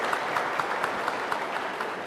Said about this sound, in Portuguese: Uma salva de palmas para os nossos peregrinos aqui no Santuário da Vida